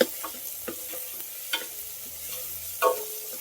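Chopped onions for chicken gravy sizzle in a pan while a spoon stirs them, soft scraping clinks and a few sharper knocks over a low steady frying hiss, close and fairly quiet.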